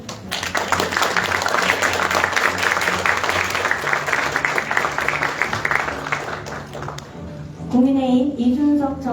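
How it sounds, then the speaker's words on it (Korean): Sustained applause from a large audience at a party founding convention welcoming arriving guests, dense and steady for about seven seconds, then giving way to a speaking voice at the end. "박수로 맞아주시면 감사하겠고요."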